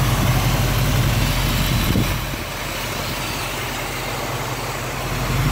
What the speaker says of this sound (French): Vous montrer le moteur maintenant.